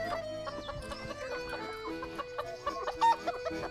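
Chickens cluck and squawk busily while feeding, with many overlapping short calls over a steady layered background and one louder squawk near the end; no talking.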